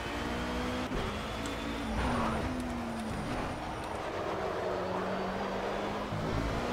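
A Ford Mustang GT4 race car in Project CARS at the 24 Hours of Le Mans passes with a droning engine note that shifts pitch with gear changes, steady and fairly close, amid other racing engine noise, with no talk.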